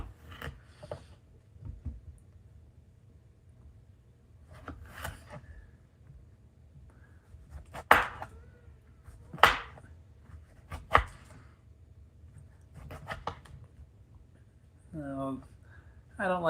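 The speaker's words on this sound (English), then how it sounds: "Get some cucumber. We'll cut off the used end" A knife cuts the worn end off a cucumber, a few sharp chopping strikes on a board standing out between quieter handling noises, with a person talking.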